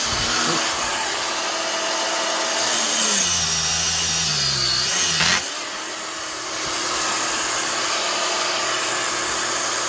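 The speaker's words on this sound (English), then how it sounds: "So we'll go back to the angle grinder again." An angle grinder carving a block of Spam, whining loud and steady at close range for the whole stretch, its pitch dipping and rising as it bites into the meat, with no talking.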